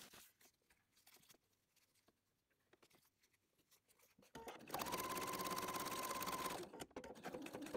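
A sewing machine stitches a lined, zipped flat pencil case, running in one steady whirring burst of about two seconds after a stretch of quiet handling noises, then stopping.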